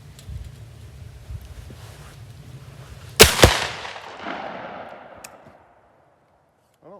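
A 10 gauge shotgun with a 23-inch barrel fires a Federal slug at an outdoor range: one very loud, close blast that rolls off into a fading echo over a few seconds, after quiet background noise.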